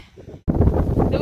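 Strong outdoor wind buffets the microphone in a steady loud roar, starting abruptly after a quieter moment, on a farm with livestock being fed during the season's first snow.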